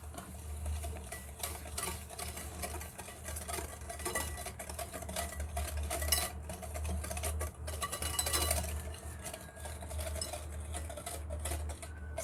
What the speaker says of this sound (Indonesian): Setelah itu tambahkan gula pasir ya. Aduk rata lagi.